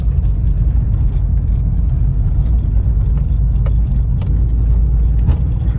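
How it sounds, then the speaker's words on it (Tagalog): A dump truck unloading materials at a concrete road-widening site runs with a steady low engine rumble, close and continuous, with faint scattered knocks from the work. "Yan, dump truck mag-dumping."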